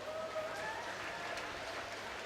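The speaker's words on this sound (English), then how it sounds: "But as always, great applause" A crowd at a university swimming championship applauds in a pool hall, giving a steady wash of clapping that stays even throughout, with faint whistles or calls rising over it.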